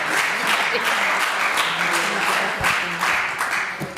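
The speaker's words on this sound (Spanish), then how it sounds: "creía que me estaban aplaudiendo a mí, pero debe ser que no" Applause fills a regional parliament chamber during a plenary session, a steady wash of clapping from many people at moderate distance, with brief thumps and murmured voices underneath.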